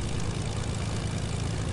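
A propeller plane engine drones steadily and loudly in a video game, a constant low buzzing roar with no break.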